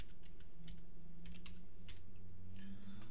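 Typing on a computer keyboard, a series of soft, quick key clicks in irregular bursts, faint and close over a low steady hum.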